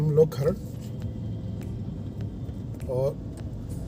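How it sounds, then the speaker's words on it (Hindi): Road traffic jammed on a highway at Kharar on the route from Delhi toward Kullu-Manali, a steady low rumble of idling and crawling vehicles close by, with someone talking over it. "और ट्रैफिक बहुत जाम है यहाँ पे, बहुत ज़्यादा जाम लगा।"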